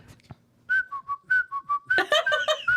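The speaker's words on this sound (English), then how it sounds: "What were you whistling? Halloween." A short whistled Halloween melody, a few sustained notes then a quicker, warbling run, close and clear with no talking.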